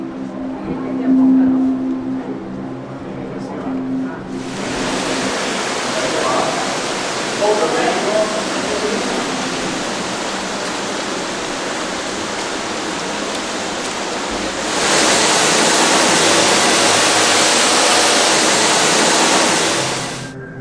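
Water rushes steadily through a knee-deep flooded exhibition area in Tokyo, a dense hiss that swells louder near the end, with faint voices early on.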